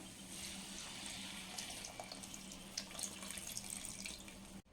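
Tamarind water poured into a pan of village-style sundakkai vathal kulambu, a steady soft splashing stream running throughout with no talk, stopping abruptly at the end.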